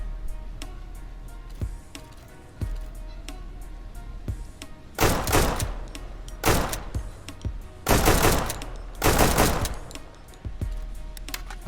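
Single-fire gunshots from a rifle in the survival shooter Deadside, PvP at a military base: sharp, loud reports in uneven bursts, some close together and some spaced apart, over a steady low background rumble.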